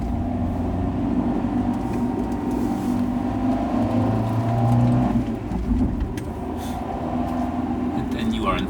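Fiat 500 1.4 Sport engine labouring steadily uphill after a downshift, a constant low drone with rising pitch under continuous talk inside the car.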